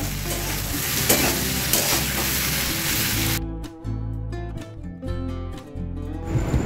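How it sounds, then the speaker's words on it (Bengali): Chilli powder and ginger paste fry in hot oil with a loud, steady sizzle and occasional stirring scrapes, over background music; after the midpoint the sizzle falls away and the music stands mostly alone. "তিন 4 মিনিট ধরে একটু ভালো করে ভাজবো"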